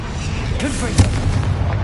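A Confringo blasting curse detonates in Hogwarts Legacy as a short, punchy boom in the middle of a busy battle din, with a voice heard just before it.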